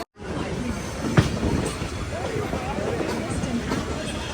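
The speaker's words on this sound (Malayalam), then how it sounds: "ട്രെയിൻ ഇപ്പോൾ ഒരേ സ്പീഡിൽ തന്നെയായിരുന്നു വന്നത്." Brindavan Express train running steadily at speed, a continuous broadband rumble and rattle of the carriage heard from inside, with a brief sharper knock near the start and low background chatter throughout.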